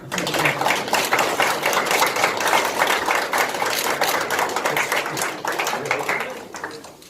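A crowd claps continuously at a memorandum-of-understanding signing ceremony for Lemon Co., Gyeongsangbuk-do province and Gumi City. The loud, even applause lasts around seven seconds and fades slightly at the end.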